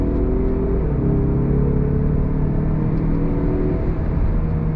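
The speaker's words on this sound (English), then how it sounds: "All right, guys, let's go on throttle again. On throttle, here we go." A 2022 Mazda CX-30 SUV accelerating on throttle, heard as a loud, steady engine drone and road rumble from inside the cabin, rising gradually in pitch.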